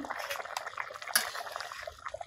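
Fish pieces of the Sundarbans amla variety dropped into a boiling, spicy curry broth, giving a burst of soft watery splashing and bubbling that settles into a steady quiet simmer.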